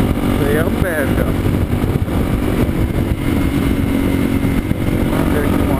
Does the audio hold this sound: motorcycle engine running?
yes